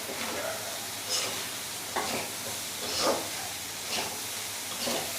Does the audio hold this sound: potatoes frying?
yes